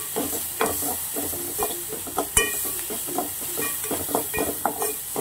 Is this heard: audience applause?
no